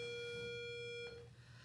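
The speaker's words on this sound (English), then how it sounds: "The bell's ringing." A school bell rings during a live lesson, a steady electronic tone with harmonics held for about a second before cutting off, fairly faint against a quiet classroom background.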